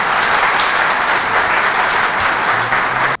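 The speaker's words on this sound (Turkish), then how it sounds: "ona da büyük bir alkış rica ediyorum" An audience at a sports club's general assembly in Kdz. Ereğli breaks into loud, sustained applause, a dense close wash of clapping that cuts off abruptly at the end.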